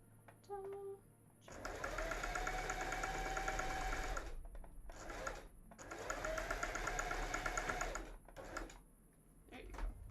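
A sewing machine stitches sleeves for a cosplay costume in two steady, close runs of a few seconds each, separated by a short pause and brief clicks, with no talking over the stitching.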